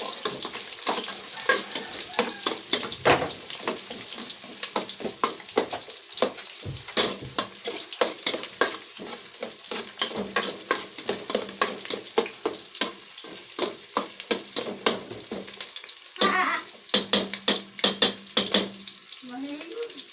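Sliced white onion sizzles and fries in a pan with frequent stirring, producing a steady loud crackle broken by sharp scraping clicks of the utensil throughout.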